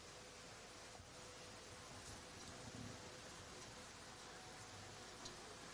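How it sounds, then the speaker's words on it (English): Heavy drizzle falls steadily on an outdoor bowls green during a women's pairs match, a dense unbroken hiss of rain at an even, moderate level throughout. "Rain still, that heavy drizzle that Troy was talking about."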